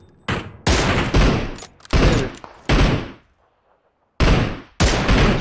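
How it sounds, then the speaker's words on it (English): Repeated close bursts of rapid gunfire in a battle royale video game, several loud volleys separated by short gaps. "Shooting rahe hai, bete."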